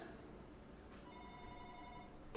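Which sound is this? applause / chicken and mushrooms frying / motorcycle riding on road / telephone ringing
telephone ringing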